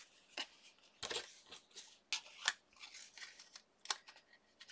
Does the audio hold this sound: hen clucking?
no